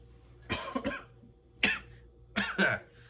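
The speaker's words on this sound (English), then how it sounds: "pardon all the coughing" Three bursts of harsh coughing from one person, loud and close, each burst made of two or three quick hacks with short quiet gaps between them.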